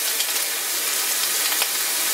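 Steady, bright sizzle of Cuban sandwich ingredients frying in a cast iron pan, a continuous close hiss with a few sharper crackles and no voices.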